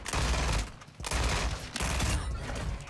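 Rapid automatic fire from an FTAC Siege in Modern Warfare 2 comes in three dense, loud strings of shots separated by brief pauses.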